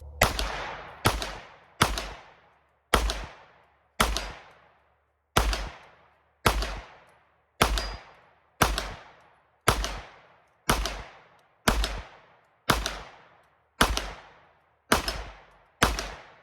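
Rifle fire emptying a magazine: thirteen sharp, loud shots at a steady pace about one per second, each with a short decaying ring-out, no talk.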